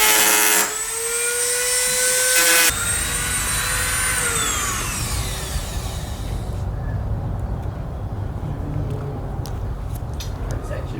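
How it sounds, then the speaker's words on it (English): A Dremel grinder cuts into a lowered BMW 335i xDrive, a steady high-pitched whine lasting a few seconds and dropping in pitch as it winds down, followed by a low rumbling background. "we got this grinder. It's a Dremel."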